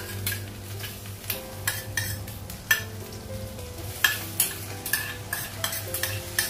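Ginger paste hits a hot pan with ground turmeric, cumin, coriander, salt and chili, sizzling steadily while a utensil scrapes and clinks in repeated stirring strokes up close, with no talking.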